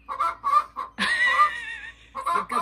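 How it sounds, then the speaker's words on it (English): A hen from a small backyard flock of four laying chickens lets out a loud, angry, drawn-out squawk, framed by shorter agitated clucks before and after. The bird is close by and no one talks. "Angry chicken."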